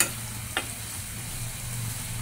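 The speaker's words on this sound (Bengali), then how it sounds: "তো আমি পেঁয়াজগুলোকে আগে ভেজে নেব।" Onions fry in a pan for a traditional Bengali small fish curry, giving a steady, close sizzle with one brief scrape or clink of a spoon early on.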